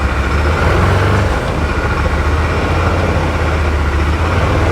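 An Odes Dominator 1000 X2 LT UTV reversing out of a shop, its engine giving a loud, steady low rumble that holds evenly, close by, with no pauses.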